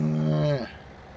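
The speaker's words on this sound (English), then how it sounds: "cows are making fun of me" A cow in Farming Simulator 17 gives a single loud, drawn-out moo with a steady pitch that breaks off and falls away after about half a second, heard close up with no talk over it.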